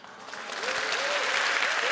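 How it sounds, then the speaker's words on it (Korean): Applause from a live talk audience swells from a few scattered claps into sustained, dense clapping, with a voice briefly audible over it. "세바시 하다 보면 이렇게 막 박수도 나오고 이러는구나."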